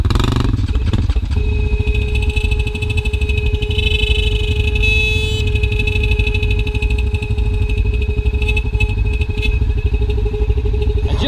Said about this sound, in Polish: Klakson mi trąbi.